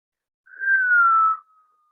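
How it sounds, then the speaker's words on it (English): A single whistling exhale through the mouth during yoga breathing, a clear steady tone lasting about a second that slides slightly downward, alone in silence. "exhale with a whistle through your mouth for about half the length of time"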